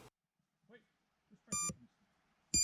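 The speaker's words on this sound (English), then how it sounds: "this allows the ESCs to make a noise when you pull the switch" FPV quadcopter ESCs beeping in Betaflight beeper mode, with short bright electronic beep bursts that come twice and are loud against near silence, and a brief voice in between.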